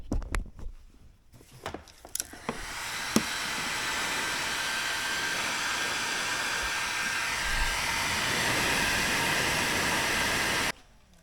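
A heat gun shrinks red heat shrink tubing on the positive cable of a 1999 Jeep Cherokee: a few clicks, then a steady, loud blowing roar held for about eight seconds before it cuts off abruptly.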